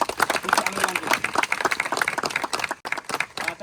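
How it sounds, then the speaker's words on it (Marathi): A group claps together at Lohagad fort, a dense, steady burst of applause lasting a few seconds with a brief dip near the end, close and fairly loud. "एकदा सगळ्यांसाठी टाळ्या वाजवा."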